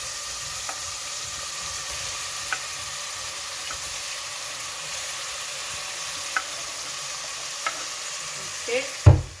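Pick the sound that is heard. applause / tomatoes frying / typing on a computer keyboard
tomatoes frying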